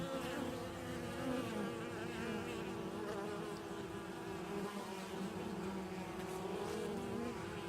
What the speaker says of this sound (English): Just watch when those bees are coming in and out.